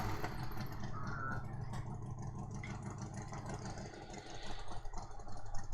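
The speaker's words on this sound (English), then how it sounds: "That was a motorcycle." Motorcycle engine drones outside as it passes, a steady mid-low rumble that swells and fades, heard indoors at moderate loudness without talk over it.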